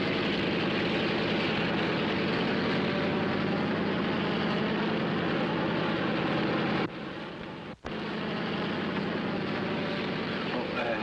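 Propeller airplane engine idling before takeoff in a 1948 film, a loud continuous low drone with a brief dip partway through.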